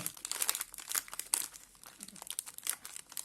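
Thin plastic wrapper of a classic long Oreo Double Fun biscuit pack crinkling close up, with quick bursts of crackling and rustling and brief pauses, no talking.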